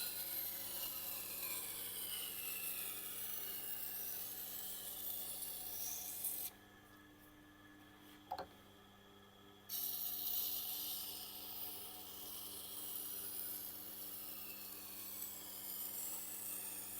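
Knife blade grinding on a Tormek wet sharpening wheel, a steady close rasping scrape that runs continuously, drops away briefly near the middle with a single click, then resumes at full strength.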